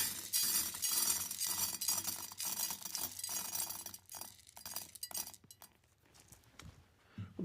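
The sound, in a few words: accent decor stones loaded into a glass vase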